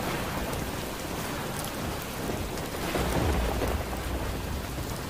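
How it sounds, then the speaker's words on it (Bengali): Heavy thunderstorm with steady pouring rain and rolling thunder, a dense continuous roar swelling with a low rumble midway, no voices. "বাহিরেও প্রচুর ঝড় বৃষ্টি শুরু হলো।"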